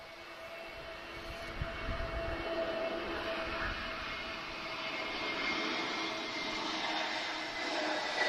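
An airliner approaching Lisbon Airport, a broad, steady engine roar that swells slowly and holds at moderate level, distant and continuous with no voices.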